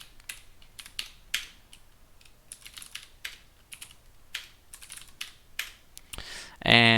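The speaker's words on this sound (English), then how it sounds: "for SSH, you need to type SSH-L, the username you're specifying, and then the IP address you want to use" A computer keyboard is typed on at close range while an SSH command is entered, with irregular clicking keystrokes in short runs, ending in a louder burst of noise.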